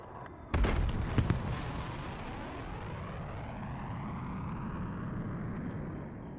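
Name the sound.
aerial bombardment by hostile aircraft in a video game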